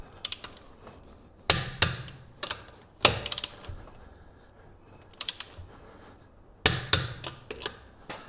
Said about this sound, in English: another thing you want to do is you always want to torque your wheels